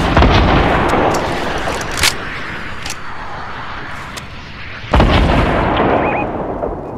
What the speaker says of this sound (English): I just destroyed that house